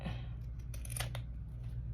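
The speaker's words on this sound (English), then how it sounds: "So take the scissors and then we're going to cut." Scissors cutting ribbon for handmade earrings: a few quick, crisp snips close by, separated by brief pauses over a low steady hum, no speech.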